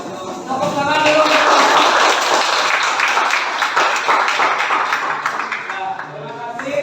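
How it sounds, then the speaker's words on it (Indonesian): A classroom of students applauds together, with scattered claps mixed with chatter and voices; the sound is loud and close and tapers slightly at the end. "Tepuk tangan dulu."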